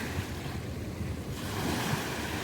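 Waves wash onto a beach under steady wind, a continuous broadband roar of surf and gusting air with no voices.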